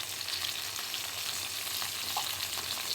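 Bhindi stirred in a pan with salt and turmeric and shorshe posto paste, giving a steady, even frying sizzle with soft scraping of the stirring throughout, no voices.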